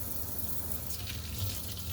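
Tap water runs steadily over a vintage Barbie doll being rinsed at a sink, a continuous close hiss of flowing water with no voices.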